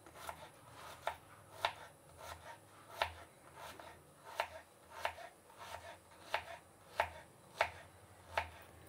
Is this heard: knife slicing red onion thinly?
yes